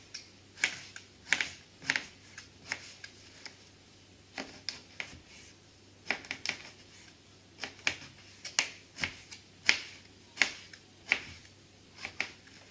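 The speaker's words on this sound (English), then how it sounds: "following the curve of the aubergine, we're going to dice it into squares." A knife chops through aubergine on a board, dicing it into squares: a steady series of sharp, close taps in an irregular rhythm, with no talking.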